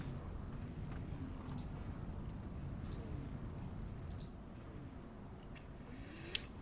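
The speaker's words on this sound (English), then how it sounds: "I apologize if you hear me clicking. My microphone's right next to my mouse." Sharp computer mouse clicks sound right beside a microphone, a few single and doubled clicks spaced a second or more apart over a low steady hum, with no talking.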